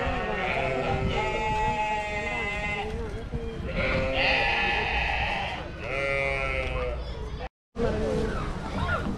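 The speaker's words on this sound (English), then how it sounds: "African goat." An African goat at a zoo bleats repeatedly in long wavering calls, close and loud, with a brief dropout near the end and some background crowd noise.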